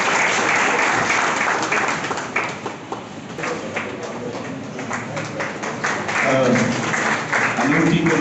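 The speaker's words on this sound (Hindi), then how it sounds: "तालियां बजाते रहें।" Sustained applause from a crowd, dense and steady clapping that swells again toward the end, with a voice speaking over it.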